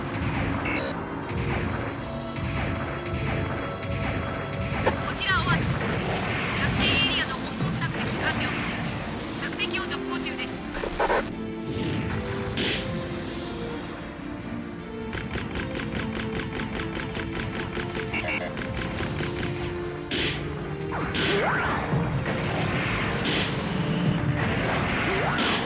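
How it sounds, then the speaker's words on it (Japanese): Explosion effects in a mecha war game mission against anti-aircraft guns, repeated booming blasts and bursts of gunfire over a loud continuous battle soundtrack, with voices talking throughout. "今爆発エフェクト発生したわね。"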